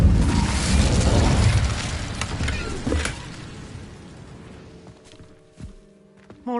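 An Incendio fire spell cast in Hogwarts Legacy, a loud roaring whoosh of flame that swells, then fades into quieter ambience and small clicks, with no talking.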